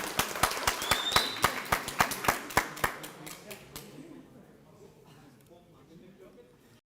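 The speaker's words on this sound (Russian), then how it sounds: "Аплодисменты бойцам за этот огненный жаркий поединок." A crowd at a fight-league bout in the 80 kg class claps in a quick, even rhythm for about three seconds, then the claps thin out and fade into quiet murmuring.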